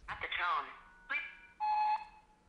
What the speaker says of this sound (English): there's a keyboard shortcut that lets you jump directly to the beep like this